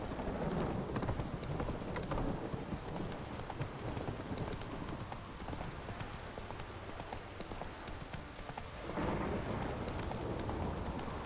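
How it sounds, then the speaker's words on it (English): Heavy downpour in The Witcher 3 video game, a dense steady roar of rain that runs the whole time with faint horse hoofbeats mixed in and swells slightly louder near the end. "This downpour's a bastard, it is."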